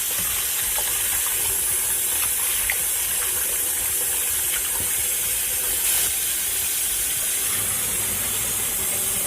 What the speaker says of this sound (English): And then I'm going to add some water.